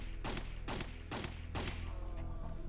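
Four loud, evenly spaced gunshots from Resident Evil 3: Nemesis, each a sharp broadband blast with a short decay, fired about every half second over a steady low game hum, then a quieter tail.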